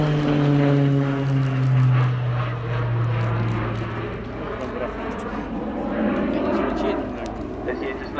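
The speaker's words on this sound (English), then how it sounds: "That distinct noise you'll hear throughout the display is the uprated Garrett CPE turboprop." A Tucano aircraft with an uprated Garrett turboprop engine displaying at Cosford Airshow, its loud droning whine sliding downward in pitch as it passes, then settling into a steady rumbling roar at a distance.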